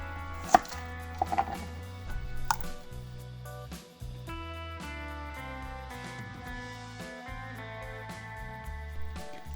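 A knife chops young onion on a cutting board in scattered sharp taps, with soft music playing underneath throughout.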